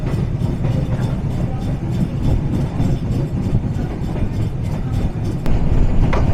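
A train runs straight through Dhirashram station without stopping, giving a steady loud rumble of wheels and carriages with faint clatter and a slight swell near the end.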